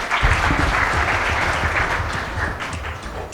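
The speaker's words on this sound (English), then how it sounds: "A big round of applause, everyone." Audience at a college speech contest applauds a student contestant, steady dense clapping that fills the hall throughout, with a few faint voices beneath.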